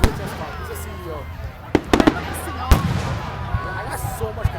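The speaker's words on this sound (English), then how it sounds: "The guy had better fireworks than this." Fireworks burst at a Canada Day celebration, a few sharp cracks and pops ringing out at a distance amid crowd murmur, while people talk nearby throughout.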